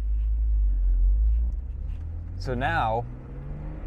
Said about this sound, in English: already I can hear that exhaust a bit better